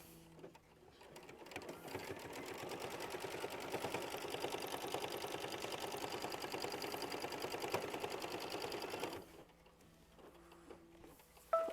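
An embroidery machine stitches a step on pieced fabric for a sampler quilt block, a steady rapid mechanical whirring and ticking that runs close and loud for about nine seconds, then stops, leaving quiet handling noises.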